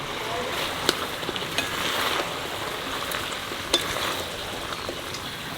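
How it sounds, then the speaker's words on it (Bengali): Mutton frying in a pan with onion, ginger paste and garlic paste, a dense steady sizzle close up with a couple of sharp clicks of a utensil, no speech. "পেঁয়াজ দিয়ে মাংসটা একটু ভেজে নিয়েছি, এখন বাকি সব মশলা দিয়ে দেবো। আদা বাটা, রসুন বাটা"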